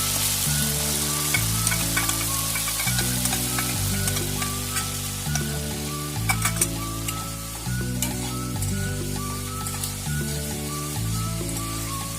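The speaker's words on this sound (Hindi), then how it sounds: "अब इस पे डालेंगे ऑनियन, लहसुन, अदरक का पेस्ट" Onion, garlic and ginger paste fries in a hot pan for chole, a loud, steady sizzle running throughout with occasional crackling pops, while background music plays underneath.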